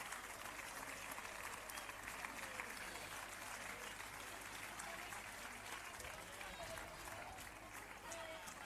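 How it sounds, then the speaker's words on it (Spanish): Audience at a women's sports team presentation event clapping continuously in a dense, steady wash of applause, fairly faint, with voices murmuring underneath. "No paréis de aplaudir, por favor."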